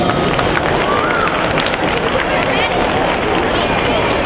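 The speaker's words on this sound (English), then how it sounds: "A big round of applause, please." Dense, continuous applause from a large audience at a Janmashtami children's performance in Houston, steady and loud throughout with a crowd murmur underneath.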